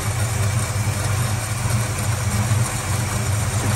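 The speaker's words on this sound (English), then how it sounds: "Nicest, I think, this thing's ever run. It's got a full choke on." A Valiant Charger engine running steadily on full choke, a loud, close, even low rumble with a constant throb and no talking.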